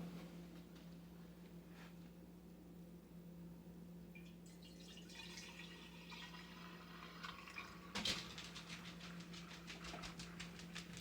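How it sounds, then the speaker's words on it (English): Fresh cream skimmed from milk pours into clean glass jars, a soft trickling and dripping of liquid that grows busier partway through, faint and close against a low steady hum. "I pour them in clean glass jars."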